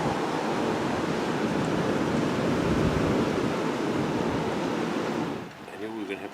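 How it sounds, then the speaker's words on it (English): A strong gust of wind roars across an outdoor yard with a wooden fence and raised garden beds, loud and steady for several seconds before easing off near the end. "There's a big gust again."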